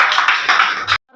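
An open mic audience at a poetry and shayari night bursts into dense, lively applause welcoming a performer, close and loud for about a second before cutting off abruptly.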